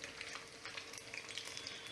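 Steady, dense sizzling of bread bites frying in hot oil, loud and continuous with small crackles and pops throughout, no voices.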